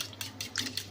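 Eggs being whisked with a little milk, salt and spice in a bowl, a quick run of soft clinking utensil strokes against the bowl, close and moderately quiet with no talk.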